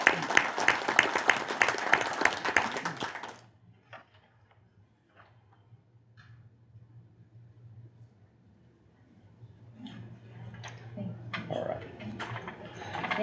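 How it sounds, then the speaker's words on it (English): A round of applause fills a White County school board meeting, loud and dense for about three seconds before cutting off, followed by a quiet low hum with faint scattered voices and movement. "Can we get a round of applause for that effort?"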